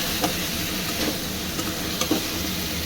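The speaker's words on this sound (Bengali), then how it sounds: "খুব ভালো করে একটু নেড়ে ছেড়ে ভেজে" Taro stolons and prawns stir-fry in spice paste, with a continuous crackling sizzle and a handful of sharp stirring scrapes against the pan.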